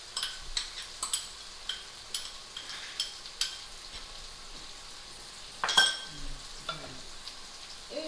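Bolognese sauce with spices is stirred in a pan over a low background sizzle, with repeated sharp utensil scrapes and clinks at an irregular pace and one louder scrape and clatter midway. Close and fairly quiet, no speech.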